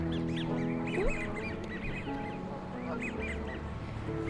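Ducks quack repeatedly as they are fed in a Vietnamese garden, a busy cluster of calls over a steady background hum.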